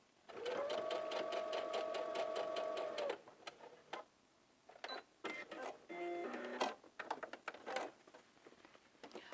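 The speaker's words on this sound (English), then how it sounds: "Let's sew within the seam allowance." A sewing machine runs a basting stitch inside the seam allowance of a garment pleat. It starts with a steady whir of about three seconds, then gives several short, stop-start bursts of stitching mixed with clicks.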